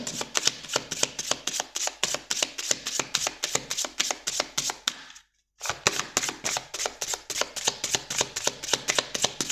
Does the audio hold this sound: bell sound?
no